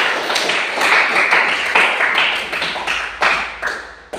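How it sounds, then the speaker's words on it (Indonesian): Clapping from a classroom group during a lesson observation, a fairly loud, close burst of hands in a ragged rhythm with a few distinct sharp claps near the end, no talk over it. "Kita beri tepuk tangan untuk"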